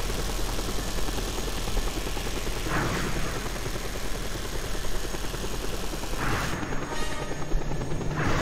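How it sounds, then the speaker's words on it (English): A helicopter approaching in the video game Just Cause 2, a loud continuous rotor thump and engine whine that stays close and steady, with brief whooshing swells from gameplay action over it. "Oh, got a helicopter coming."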